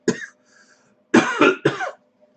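A short cough after a dab hit, then a pause, followed by a burst of three harsh, close coughs in quick succession.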